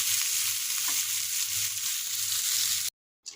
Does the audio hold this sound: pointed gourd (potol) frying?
yes